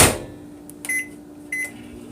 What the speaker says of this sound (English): we're going to pop this in the microwave for